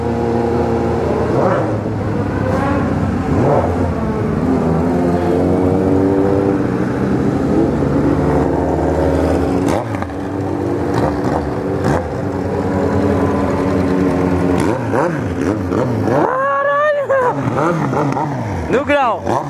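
A Kawasaki Z1000 motorcycle engine revs loud and close, climbing again and again into its rev limiter in sustained, surging bursts, with voices faintly mixed in around it.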